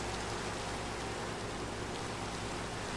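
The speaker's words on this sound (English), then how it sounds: "But it's raining now." Steady, even rain hiss fills a Minecraft world, a constant wash of falling drops with no breaks or voices.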